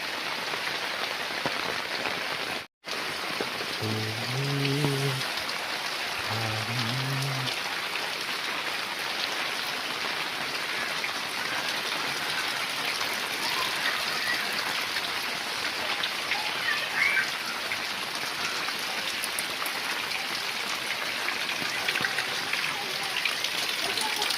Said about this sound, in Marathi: पाऊस जोरात आहे